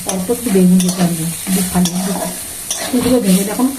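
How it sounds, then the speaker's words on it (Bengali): Ingredients frying with salt, turmeric and two green chillies inside a pressure cooker, a spoon scraping and stirring repeatedly over a loud, steady sizzle. "ভাজা হচ্ছে লবণ হলুদ দিয়ে দিয়েছি কাঁচা লঙ্কা দিয়েছি"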